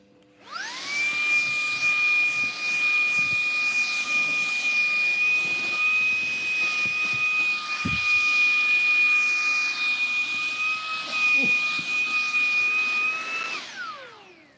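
A Bissell vacuum cleaner runs steadily for about thirteen seconds, a loud continuous whine with a high airy hiss, starting and stopping abruptly, with a brief thump near the middle.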